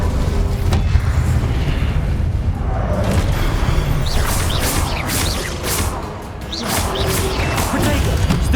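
An Incendio fire spell is cast in the Hogwarts Legacy video game amid continuous combat, with loud booming blasts and crashing impacts that come in waves.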